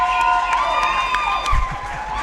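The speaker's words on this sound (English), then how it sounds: "knowing that camera's on you and everybody's about to cheer, and Louise finishes." A crowd cheers and applauds as a competitor finishes a puzzle at a jigsaw puzzle championship, with a steady roar of many voices and scattered claps filling the hall.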